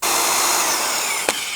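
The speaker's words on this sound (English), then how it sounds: "Drill." A cordless power drill whines loudly and continuously at close range on a tiny house floor joist build, holding a steady high pitch before a brief sharp click near the end.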